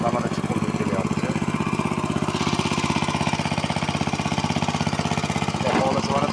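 A water pump motor draws water out of a pit, chugging in a fast, even rhythm close by, with voices talking over the steady running engine.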